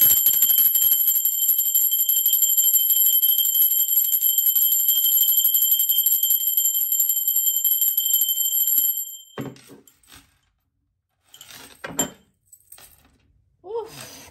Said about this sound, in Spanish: Vamos a preguntarle la campana, ser divino.